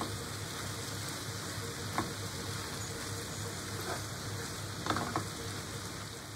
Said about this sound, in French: Je remue le tout et je laisse recuire environ